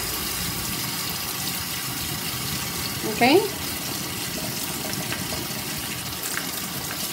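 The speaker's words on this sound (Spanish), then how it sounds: "Vamos a echarle un poco de agua y lavarlas." Water runs and splashes while tapioca pearls are rinsed in a kitchen, a steady wash of flow with a brief louder splash in the middle, and a voice speaks once.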